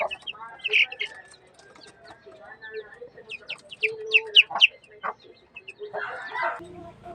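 Five-day-old chicks chirp in high, quick bursts close by while hens cluck lower between them, with intermittent calls and some background noise.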